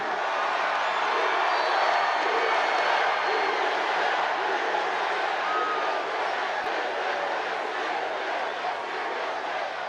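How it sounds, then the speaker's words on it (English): A big crowd at a Trump MAGA rally in Gastonia, North Carolina, roars and cheers in a dense, sustained wall of voices, with whoops rising through the din for the whole stretch. "This is one hell of a big crowd."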